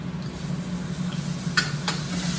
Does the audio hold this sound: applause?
no